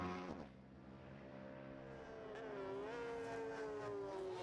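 Parallel-twin KTM engine on a racing sidecar at the Isle of Man TT, giving a loud, steady exhaust note with a rising, shifting tone as the outfit passes close by, with no talk over it.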